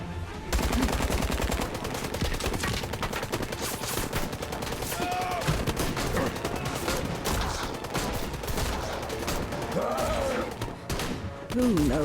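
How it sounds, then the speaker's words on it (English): A light machine gun fires in the video game Syberia: The World Before, with dense, loud bursts of rapid automatic fire rattling almost without pause amid booming battle noise. "Light machine gun."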